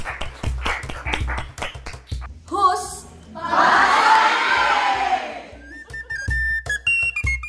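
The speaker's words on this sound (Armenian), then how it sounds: "Ծափահարենք մեր մասնագետներին" An audience at a TV singing contest breaks into applause for the specialists, a dense burst of clapping and cheering that swells in the middle of the clip between bursts of music and a short spoken word.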